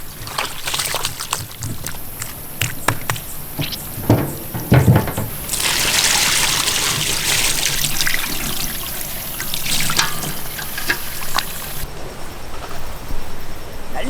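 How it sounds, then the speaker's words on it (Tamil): Meat is washed by hand in water, with close, loud splashing, sloshing and trickling that comes in uneven bursts throughout. "இன்னொரு வாட்டி நல்ல சுத்தமாக கழுவி எடுத்துக்கணுமுக்கா"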